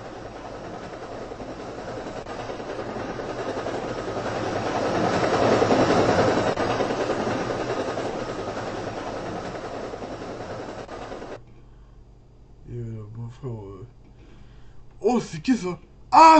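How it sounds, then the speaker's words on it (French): A Transilien commuter train in a video game, a long rumbling pass that swells to a peak and fades before cutting off. Voices talk after it, close. "Le Transilien."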